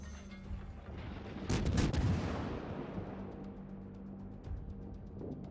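High explosive shells from the battleship North Carolina strike the cruiser Mogami in World of Warships, a cluster of heavy booming impacts that peaks, then rumbles and fades, followed by scattered smaller cracks.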